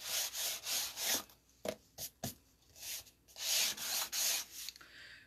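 A bone folder rubs and burnishes paper card up close in repeated smooth, scraping strokes of varying length, with a few short sharper swipes in between.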